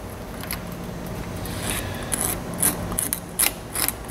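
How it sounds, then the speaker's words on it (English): A razor blade scrapes along the outer surface of a tin-plated copper wire, giving short, dry rasping strokes that come in bursts and grow more distinct toward the end, close and moderately loud. "taking my razor blade and scraping on the outside"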